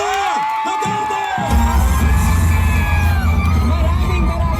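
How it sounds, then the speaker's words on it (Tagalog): A political rally crowd for Vice President Sara Duterte, at an event with Isko Moreno, bursts into loud, sustained cheering, whooping and applause that swells after a quieter opening moment and fills the space. "natin ng mainit na palakpak at sigawan, Vice President Sara Duterte!"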